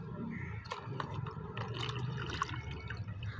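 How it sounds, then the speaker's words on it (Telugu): Water poured into a glass during a don't-drop-the-water challenge game, a light splashing trickle with a few drips over steady background murmur. "వాటర్ పోస్తున్నాను నేను"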